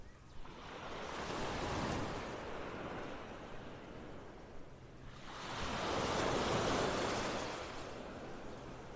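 Waves roll in on Vanderbilt Beach in North Naples, Florida, as the tide comes in on a foggy morning, with two broad swells of surf wash rising and falling and some wind noise on the microphone.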